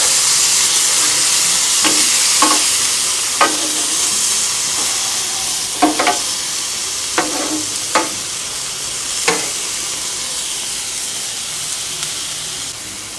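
Pork chops and squash sizzle steadily on a Blackstone griddle, a bright continuous hiss broken by sharp pops and spatters at irregular moments.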